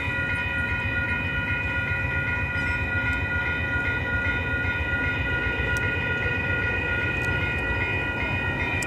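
An Amtrak train passes on the BNSF line at 18th Street in Chicago. Steady rumbling and rolling noise carries through with a sustained high tonal ring, moderately near, with no talk.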